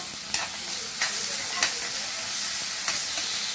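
Grated beetroot, added after curry leaves, is stirred in a hot frying pan for beetroot rice: a constant close sizzle punctuated by several scraping spoon strokes at uneven intervals.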